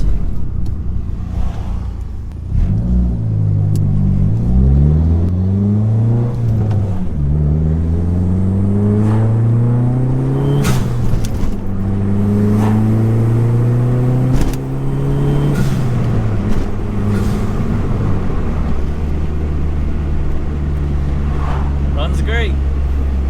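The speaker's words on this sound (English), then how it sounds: "I don't know how you can't just love the sound of the SRT4." A Dodge SRT4 car engine revs and accelerates through several gear pulls, its pitch climbing, dropping at each shift, and climbing again, loud and close, then settles back to a lower steady drone.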